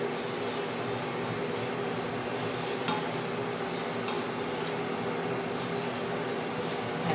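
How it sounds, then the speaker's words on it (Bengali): Palm-pulp fritters fry in a pan, a constant moderate sizzle with occasional light stirring and utensil clinks. The sound stays even throughout, with no voices. "দেখো তোমরা আমার তালের ফুলুরি কীরকম ভাজা হচ্ছে"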